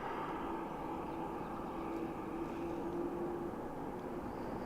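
A distant airliner descending toward Dublin Airport through cloud cover gives a steady, low, continuous roar that holds evenly throughout without rising or fading.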